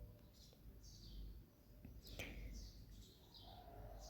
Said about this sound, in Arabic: وصوت زجزجة العصافير كده حاجه ما شاء الله